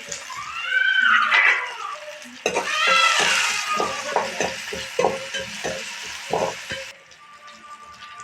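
Onion and green chilli temper in a hot pan with a loud crackling sizzle, then a spatula stirs in steady rhythmic scrapes over the continuing fry before it quietens near the end; a voice is briefly heard early on.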